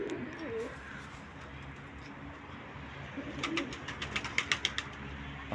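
Tumbler pigeons fly overhead, with soft cooing and a quick series of wing flaps and claps toward the end, heard faintly against a low background hum.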